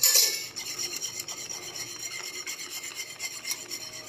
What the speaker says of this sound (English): I'll just quickly whisk it until all the lumps are broken